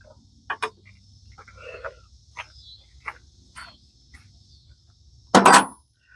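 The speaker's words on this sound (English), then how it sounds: "those are cicada bugs" Cicadas buzz in a steady faint drone in the background, with a few scattered clicks and taps and a loud rasping burst near the end.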